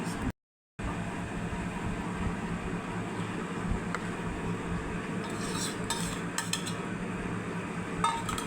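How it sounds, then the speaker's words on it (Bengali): Egg is beaten with sugar and salt in a bowl, a utensil clinking and scraping steadily against the sides in a continuous close rhythm, with a brief dropout early and a few sharper clinks near the end. "লবণের সাথে চিনি পরিমাণ মতো, স্বাদ মতো চিনি দিয়ে ডিমটাকে গুলিয়ে নেব সুন্দর করে"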